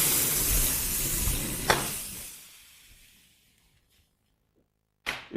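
Compressed CO2 escapes from a pierced standard cartridge in a strong, close hiss that fades away over a few seconds into silence, followed by a short, sharp burst of noise near the end.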